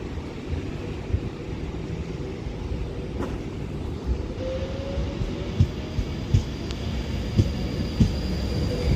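A train rolls through Liverpool South Parkway station on the West Coast Main Line Liverpool branch, with a steady, moderately loud rumble throughout and a few sharp clanks and brief squeals from the wheels near the end.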